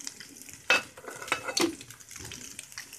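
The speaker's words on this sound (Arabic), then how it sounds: "البصل اهو هحمره اهو، اللي هحطه على الكشري" Onions sizzle softly in a pan for Egyptian koshari while a utensil scrapes and clacks against the metal a few times.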